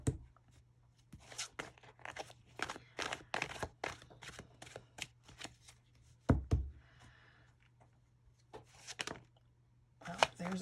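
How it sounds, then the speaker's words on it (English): A tarot deck is shuffled by hand at close range in a series of sharp, uneven card slaps and taps, some louder thumps among them, over a faint, steady hum. "And let's do a little bit of this kind of shuffling."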